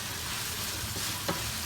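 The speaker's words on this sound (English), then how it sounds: "the meat is frying." Steady, close sizzling of minced meat frying in a pan, with a faint scrape of stirring near the end.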